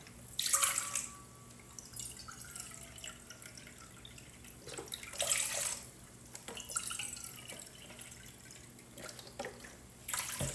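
Vegetable broth is poured into a bowl in a home kitchen, with soft trickling, splashing and dripping liquid at close range, rising and easing in several uneven bursts.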